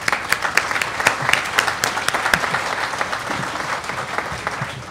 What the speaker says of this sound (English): So I applaud them.